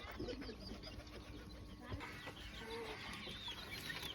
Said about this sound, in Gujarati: બચ્ચાવાળી કુકડી નીચે કેરેટમાં પૂરી દીધી છે